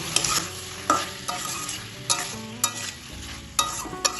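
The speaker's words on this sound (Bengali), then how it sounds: "সব মশলার সাথে ঝিঙে এবং আলুটা কষিয়ে নেব।" Ridge gourd and potato stir-fried with spices in a pan produce a steady sizzle punctuated by repeated spatula scrapes and knocks at an irregular rhythm, close and fairly loud.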